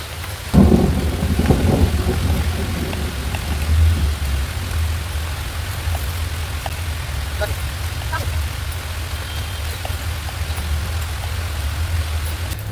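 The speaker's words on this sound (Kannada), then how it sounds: "ಮಳೆ ಸಕ್ಕತ್ತಾಗಿ ಬರ್ತಿದೆ" Heavy rain pours down steadily in a loud, dense hiss, with a deep rumble of thunder early on that fades into the continuous downpour.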